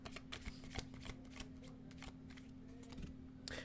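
A deck of tarot cards is shuffled up close in quiet surroundings, a run of quick papery riffles and soft slaps with a faint steady hum underneath.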